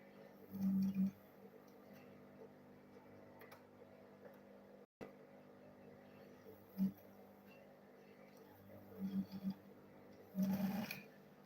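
A sewing machine stitches fabric in short whirring bursts separated by pauses, quiet and close, with faint ticking in between.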